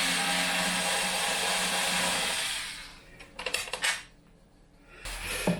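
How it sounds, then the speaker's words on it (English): Screws being removed from a guitar speaker cabinet: a loud whirring motor-like rush for a couple of seconds, then a cluster of small metallic clinks and rattles, and a final burst of noise. "let's remove the screws and remove the speaker from its location"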